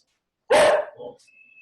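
A small dog gives one sharp, loud bark followed by a shorter, softer yelp, close by and alone, with a faint high whine trailing after.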